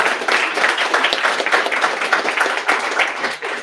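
Lively audience applause at a pitch event night, a dense spread of many hands clapping with uneven rhythm, fairly close and loud throughout.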